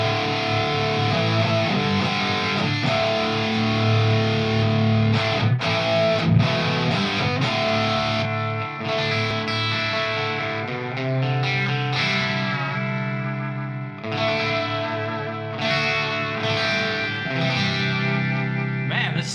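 Electric guitar played through an effects unit with distortion and chorus, a continuous loud stretch of chords and notes with sharp strummed attacks and sustained, shimmering, overdriven tone.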